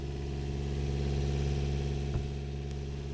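A diesel engine aboard an S2 11.0 C sailboat runs at a steady idle below deck, a close, continuous low drone with an even mechanical hum and no change in pace.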